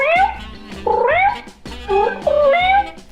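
A cat in a shop meowing repeatedly, four loud, close, rising and falling meows with a whiny, drawn-out quality, no talk over them.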